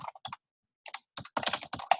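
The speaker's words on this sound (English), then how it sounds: "And I'm just typing here." Bursts of typing on a computer keyboard, clicking in quick irregular clusters with a short pause partway through, close and fairly quiet.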